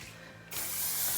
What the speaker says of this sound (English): I spray the curls to help set them